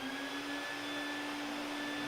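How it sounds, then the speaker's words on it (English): A vacuum cleaner drones steadily in the background, a constant whine with sharp tonal hums that holds at a moderate, even level throughout, with no talking over it. "If you can hear that vacuum, I'm sorry."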